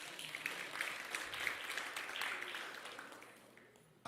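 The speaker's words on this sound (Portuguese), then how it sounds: "Uma salva de palmas para a igreja." A church congregation applauds during a Sunday service, faint, dense clapping that holds steady and then thins toward the end.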